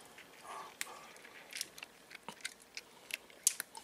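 A cat eats its food up close, giving soft, irregular bites and crunchy chewing clicks over a quiet background, with no talking.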